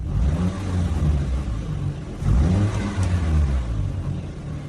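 A car engine runs with a low rumbling idle that swells into a rev midway, steady and close, with no talking.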